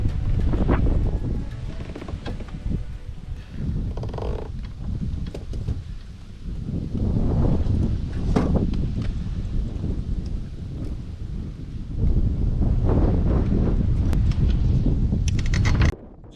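Wind gusting across a microphone while fishing from a boat on open water, steady loud rumbling buffets with no voices.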